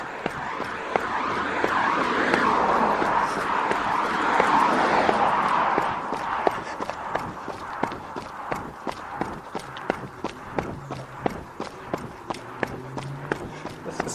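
Road traffic roars past in a steady broadband wash for about six seconds, then drops away. What follows are crisp, evenly spaced footsteps of a runner heading slightly downhill toward a main road.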